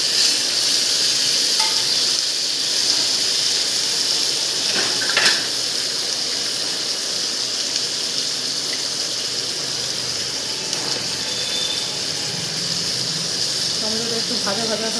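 Tomato frying in a pan for a vegetarian chhana curry with fried paneer pieces makes a steady, dense, close sizzle that runs throughout, with occasional soft stirring clicks.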